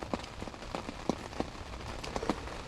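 Rain pattering onto a wild pond in Sumy oblast during a fishing trip, a steady hiss of drops with scattered louder taps close by, no voices.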